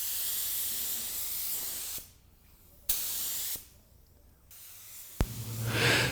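Short, loud blasts of hiss from a paint spray gun run wide open at about 20 psi, spraying sealer onto a car bumper in several bursts separated by brief pauses, close up and with no voices.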